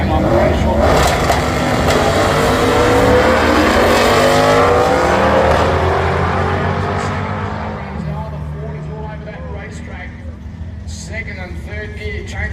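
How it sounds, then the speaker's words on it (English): On board a 1995 Holden Commodore race car powered by a 355 Oldham motor at a track championship round: a loud, continuous engine roar with gear-change swells that eases to a lower, rougher drone after several seconds. "on board the 95 model Commodore powered by the 355 Oldham"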